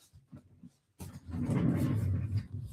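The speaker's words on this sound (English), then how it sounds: "I do have my puppy dog in here with me this morning." A puppy dog in a room, heard as a few soft low yips or grunts followed by a louder stretch of rustling, panting or scuffling noise close by.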